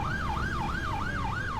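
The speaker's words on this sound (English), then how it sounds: "we need to be good and let this ambulance through as soon as we can." Ambulance siren in the bus simulator OMSI 2, a steady wailing tone that sweeps up and down about every quarter second, loud and continuous over low engine rumble.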